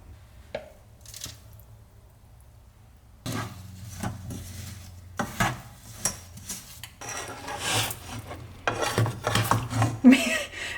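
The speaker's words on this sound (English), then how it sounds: "Me trying to stir this with one hand while filming." A spoon stirring strawberries and sugar in a pot for jam, making irregular gritty scraping and rubbing strokes that start sparse and grow busier and louder, with no talking.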